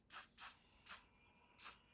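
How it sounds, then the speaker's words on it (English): Four short, soft hissing bursts from a small spray can or bottle misting a lighter colour onto a tiny OO gauge model railway scenery bush, each puff close and brief with quiet gaps between. "So I'm going to give it another little spray"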